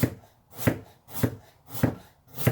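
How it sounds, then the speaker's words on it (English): A knife slices thinly through sweet garden carrots on a board, five crisp, evenly spaced chops about half a second apart, close and clear with quiet pauses between. "So I'm just slicing these pretty thin"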